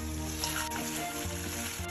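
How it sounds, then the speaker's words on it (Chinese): Chicken pieces sizzle steadily as they are stir-fried in a pan with chili sauce and onion, a close, continuous frying hiss with faint stirring and no talk. "翻炒八分钟"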